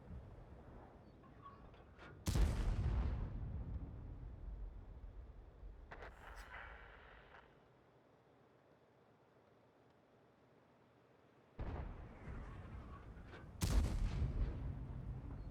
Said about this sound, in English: I'm just gonna shoot this bush until I find him.